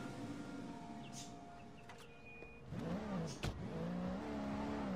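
Car engine revving and accelerating in the Sleeping Dogs video game as a police car is driven, a steady mid-pitched drone that swells louder midway, with brief tonal blips over it.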